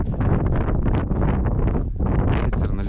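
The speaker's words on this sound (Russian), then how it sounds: "Ветер налетел. Все ужасно. Уже метет." Strong wind gusts in a sudden snowstorm, buffeting the microphone with a loud, continuous roar that swells and dips for about three seconds.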